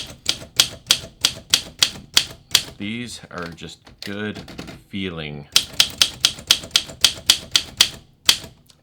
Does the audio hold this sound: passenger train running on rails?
no